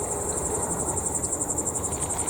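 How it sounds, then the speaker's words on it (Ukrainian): A high, steady insect whine drones on without a break, loud and close, over a soft outdoor hiss with no voices. "Комарі гудуть, кусаються."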